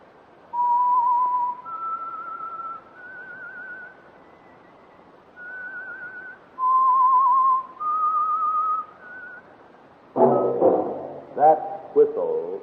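A lone whistled melody rises step by step in a sequence of sustained clear notes, the signature theme of a 1948 radio mystery drama, followed by a voice speaking at the end.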